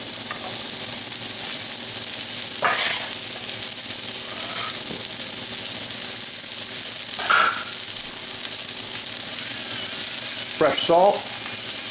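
Julienned cabbage sizzles steadily in a hot frying pan, a constant close crackle and hiss that runs the whole time, with a few brief bursts of speech over it.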